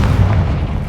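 A single close, heavy boom from a Confringo fire spell in the Hogwarts Legacy video game, a low rumbling burst that fades over about a second.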